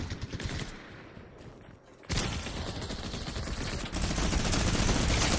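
Rapid video game gunfire in a gun-game match, dense bursts of automatic fire and shots crackling loudly and continuously, briefly dipping before surging back harder, with several shooters firing at once.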